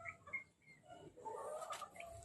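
Several backyard chickens with a bulanting rooster cluck in short bursts around a nesting hen, the calls close by over a low farmyard hum.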